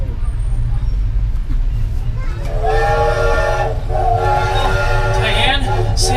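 A Polar Express train rolls along with a loud, steady low rumble, and a whistle-like tone rises over it partway through, with voices mixed faintly in the background.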